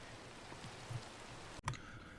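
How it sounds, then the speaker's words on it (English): Rain falls in the Minecraft video game as a soft, even hiss, quiet throughout, with a couple of brief clicks and taps partway through. "It's the rain."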